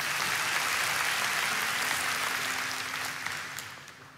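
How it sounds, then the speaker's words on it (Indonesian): Church congregation applause during a sermon service, a dense, even roar of clapping that holds steady, then thins and fades toward the end, with a faint sustained tone underneath. "Kita kasih tepuk tangan sekali lagi."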